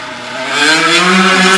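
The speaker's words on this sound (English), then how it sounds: "wait for that big loud motorcycle to go by." A loud motorcycle engine roars and rises in pitch as it revs up, steady and close, with a rough, throaty drone throughout.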